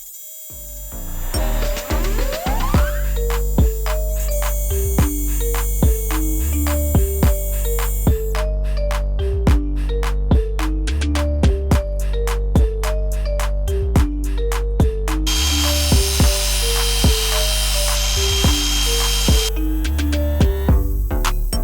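A lathe trimming the sides of a bearing housing, giving a steady loud machining drone with a regular ticking rhythm of cuts and shifting bright high-pitched whine throughout, with no talking.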